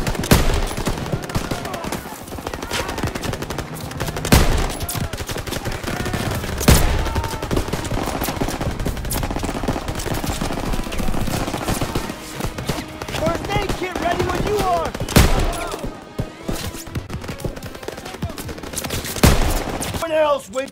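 Machine guns fire repeated bursts in a wartime battle scene at a bridge, loud sharp volleys overlapping with scattered single shots throughout.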